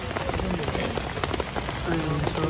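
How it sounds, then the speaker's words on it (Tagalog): Heavy rain pours onto a campsite, a dense, constant patter of drops on nearby surfaces, loud and even throughout, with a voice faintly under it. "Wah, lumalakas ang ulan."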